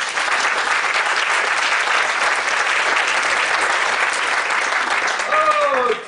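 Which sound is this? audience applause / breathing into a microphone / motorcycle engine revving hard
audience applause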